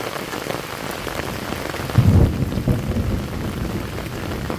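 Heavy rain pours steadily onto the ground in a lightning storm, a dense, loud hiss throughout, with one low thump of distant thunder midway.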